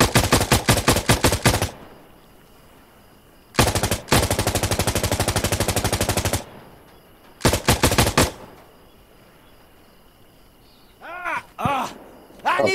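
Automatic gunfire in the video game Insurgency Sandstorm comes in loud, close bursts of rapid shots separated by quieter pauses, with a few scattered single shots near the end.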